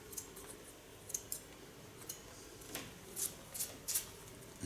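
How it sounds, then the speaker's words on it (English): Scissors snip through a woman's hair during a cut from a bob to a pixie style, giving a series of quiet, crisp clicks and short slicing sounds at an irregular pace, close by. "Take my scissors the other way around, otherwise I cannot cut it like"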